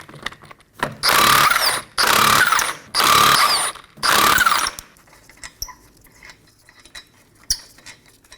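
Socket ratchet driving off 19mm lug nuts on a Ford Transit Connect wheel, four loud bursts of rapid whirring about a second each with short gaps, then quieter scattered clicks and clinks.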